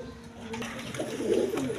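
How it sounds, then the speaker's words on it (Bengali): A pair of pigeons coo close by, soft low rolling coos swelling toward the end, alone without talk. "এখানে এক পেয়ার কবুতর আছে"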